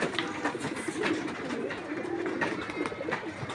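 Pigeons released together coo steadily in low, murmuring calls that overlap across the whole stretch, moderately faint with a light airy background.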